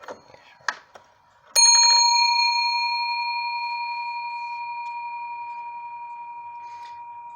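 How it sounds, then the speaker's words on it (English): An 1820s Eli Terry weight-driven pillar and scroll clock strikes its plain bell once, a bright single ring that decays slowly over several seconds, after a few soft mechanical clicks and taps. "It also has just a bell for a chime."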